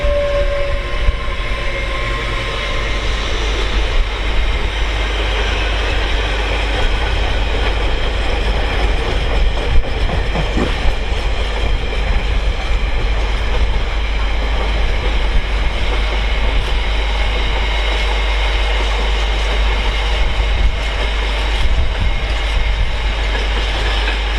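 A Class 800 train arrives into Doncaster or Peterborough station on the East Coast Main Line, a steady loud rumble and rolling wheel noise with low engine drone, continuous and close throughout.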